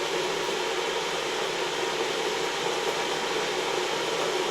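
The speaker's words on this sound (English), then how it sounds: "The noise you can hear is the kettle in the background." An electric kettle boils in a home kitchen during cooking, giving a steady, even rushing hiss that carries on without a break and with nobody speaking.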